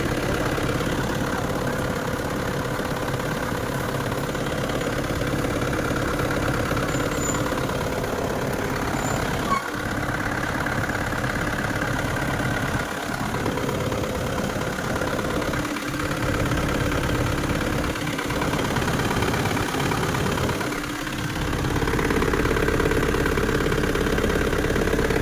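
An Isuzu pickup's engine idles steadily with its air-conditioning compressor engaged, a loud, continuous mid-low hum and drone, with a few brief dips and knocks and no talking.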